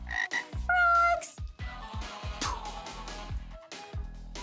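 Frogs croak close by in repeated short bursts, several calls in quick succession, with a couple of bright whistling tones mixed in.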